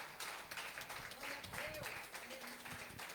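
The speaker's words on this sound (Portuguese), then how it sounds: "Dá uma linda salva de palmas e glorifica o nome do Senhor." A church congregation claps during a evening service, a faint, continuous patter of many hands with voices talking and singing over it.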